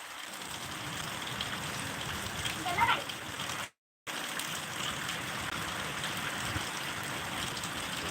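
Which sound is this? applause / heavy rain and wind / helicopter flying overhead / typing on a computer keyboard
heavy rain and wind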